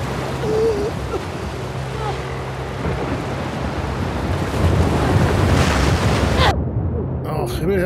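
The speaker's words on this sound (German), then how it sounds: "Blöde Wellen." Loud ocean waves in The Last of Us Part II surge and roar continuously, with a gusty wind-like rush, before cutting off abruptly near the end.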